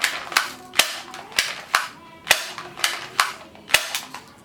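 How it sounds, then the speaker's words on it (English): Black toy guns fire in a Nerf-style war, a series of sharp, snappy cap-like shots at an uneven but steady pace, about ten crisp cracks close by with no talk. "This is black toy guns."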